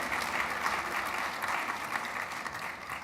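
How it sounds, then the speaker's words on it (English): Congregation applause during a Sunday worship service at a Unitarian Universalist church, a steady round of clapping from the gathered people that continues without talk. "So another round of applause, please,"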